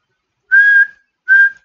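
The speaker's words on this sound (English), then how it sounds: "when I go from ow to whistle" A person whistles two clear, loud steady notes close up, a longer tone followed by a shorter one, with silence between them.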